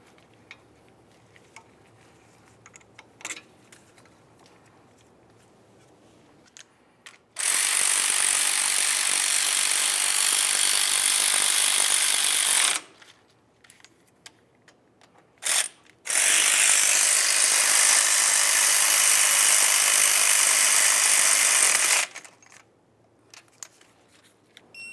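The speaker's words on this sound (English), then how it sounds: "continue on to your slider bolts, snug them up, torque them to 26 foot-pounds" Ratchet tightening brake caliper slider bolts on a 1998-2002 Lincoln Navigator, two long bursts of loud rapid clicking separated by a short pause, with faint workshop knocks in between.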